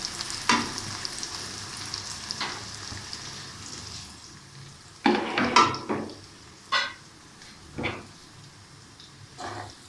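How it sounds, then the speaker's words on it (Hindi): Okra fries in oil over high heat with a soft continuous sizzle, broken by louder bursts of stirring, spatula scrapes and pan clatter at uneven intervals. Nobody talks. "ये हमारी भिंडियाँ जो है वो फ्राई हो गई हैं"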